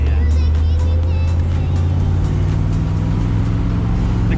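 A 1966 Corvette's engine drones loud and steady while driving, its deep low rumble continuous with slight rises in pitch through the run.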